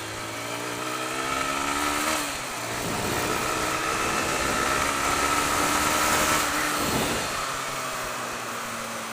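A Honda CBR 125 motorcycle engine runs steadily nearby, a droning hum that dips briefly and then rises again before settling, with no talk over it.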